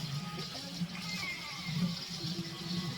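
Water runs from a bathroom tap as a face is washed, a soft steady rush with low gurgling and splashes, moderately quiet throughout.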